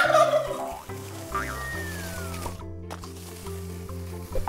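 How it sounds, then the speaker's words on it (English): A turkey gobbles loudly in a quick burst, set over steady background music in a children's animal alphabet program. "T, turkey."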